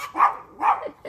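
A dog gives a few short, close vocal bursts, bark-like yips with a whining, sing-song edge, repeated about three times in quick succession.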